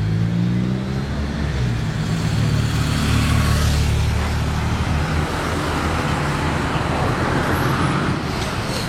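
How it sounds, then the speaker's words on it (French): Prince Albert's car convoy arrives in Monaco as a loud, continuous wash of engine and road noise from several vehicles passing close by. "Il y a le convoi du Prince Albert qui arrive."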